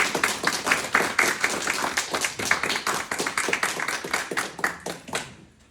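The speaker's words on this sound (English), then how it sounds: "How about a round of applause?" Sustained applause from an audience saluting veterans at a Minersville, Pennsylvania area event, dense steady clapping from many hands that carries on for several seconds before tapering off at the end.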